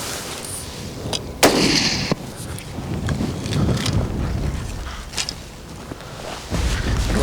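A single sharp hunting rifle shot cracks out at a blue wildebeest on an open plains hunt, loud and close, followed by wind rumble on the microphone and faint movement.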